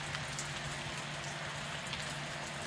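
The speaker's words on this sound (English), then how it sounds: "Can you hear the rain?" Steady rain falls outdoors near a small puddle, a dense even hiss of drops hitting the surface with no pauses and no voices.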